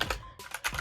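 A few quick keystrokes on an Amazon RGB computer keyboard, close and quiet clicks in a brief burst, with no talking.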